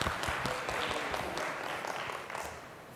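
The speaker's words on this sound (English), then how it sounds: "Round of applause for the team." An audience gives a round of applause for a team at a hospital presentation, fairly faint, steady clapping that continues throughout, heard from a distance with no clear talking.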